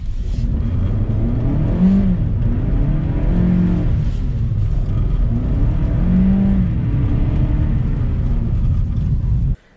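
A car driven in sports mode accelerates hard with a loud, close engine drone that rises and falls through several revving surges over about ten seconds, then cuts off abruptly, with no talking.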